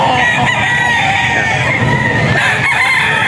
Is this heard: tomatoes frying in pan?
no